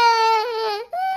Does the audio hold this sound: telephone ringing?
no